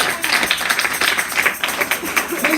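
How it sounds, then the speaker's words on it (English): Church congregation clapping their hands together, a dense, steady patter of many claps with a murmur of voices mixed in. "Can we clap our hands for?"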